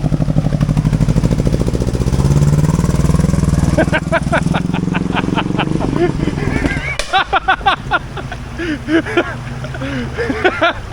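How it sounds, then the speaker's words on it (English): A carburetted 4WD engine on the Old Telegraph Track in Cape York drones steadily, then gives a series of quick rhythmic revs that break into choppy bursts, loud and close, with someone talking over it. "Let's give it some revs."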